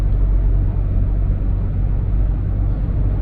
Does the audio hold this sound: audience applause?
no